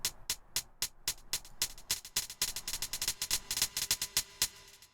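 A Korg Triton synth plays a quick run of bright, plucky staccato notes, each followed by fainter repeating echoes from a delay effect that trail into the next.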